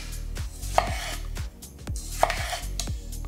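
Ninja Foodi NeverDull chef knife chopping through food on a cutting board, with about six crisp, evenly spaced blade strikes in a steady rhythm, close and clear, with no talking.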